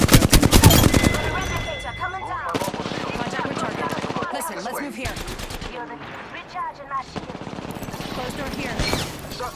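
Automatic weapon fire rattles in long, dense bursts and rapid shots throughout a tactical shooter video game firefight, loud and close, with brief in-game radio callouts layered in between.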